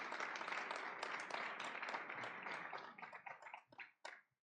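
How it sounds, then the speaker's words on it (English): An audience applauds at a presentation of an economic forecast, dense clapping that holds steady, then thins out and stops within a few seconds. "Nice round of applause for Beth and Tim."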